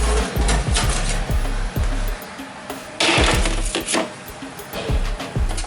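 Metal spatula scraping and knocking homemade oven chips loose from a baking tray, a close run of sharp scrapes and clacks in uneven bursts, with no talk.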